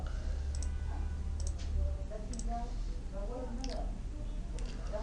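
Computer mouse clicks sound during a Word 2010 lesson, a handful of sharp, quiet clicks spread irregularly across the clip beneath faint, soft speech.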